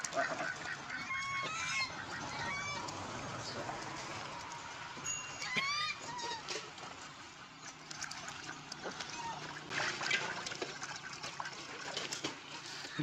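Ducks near water squabble, with repeated honking calls and squawks breaking out over a busy outdoor background, some bursts louder and closer, others fainter.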